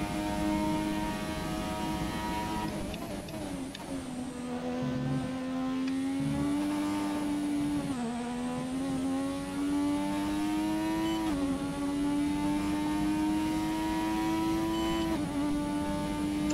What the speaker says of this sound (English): the sound of this classic V6 is interesting